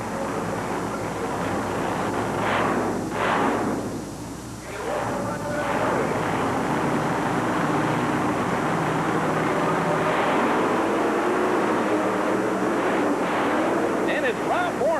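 Monster trucks at a 1990 USHRA event in Oklahoma City launch off the starting line at a Ford-fan crowd, a dense continuous engine roar with rumbling surges, heard far off through arena noise and crowd din.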